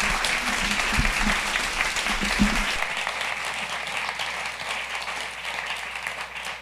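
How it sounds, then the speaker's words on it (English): An audience at an evening author event breaks into warm applause for the guest novelist and her interviewer, a full, steady roar of clapping that holds at a fairly loud level and slowly thins toward the end. "please give a warm round of applause to Elizabeth Strout and Jessica London."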